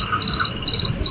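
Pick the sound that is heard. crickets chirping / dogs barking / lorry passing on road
crickets chirping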